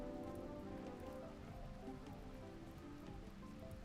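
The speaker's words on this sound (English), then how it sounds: "Oh, good. There's rain." Steady rain falls in the video game RimWorld, a dense, constant patter of drops on surfaces filling the whole clip with no pauses.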